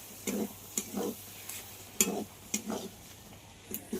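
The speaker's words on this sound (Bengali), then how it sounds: "আবারও সব কিছু কষিয়ে নিতে হবে।" Spoon stirring ground coriander and cumin with bottle gourd and lentils in a pan, a series of short scraping strokes with a soft sizzle underneath, close and fairly quiet, no voices.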